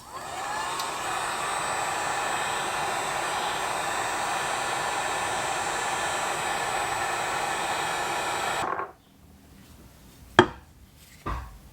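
A heat gun blows a steady, loud hiss of hot air while warming the bearings of a Derbi Start V engine crank, then cuts off abruptly, followed by a couple of sharp metallic clicks in a quiet garage.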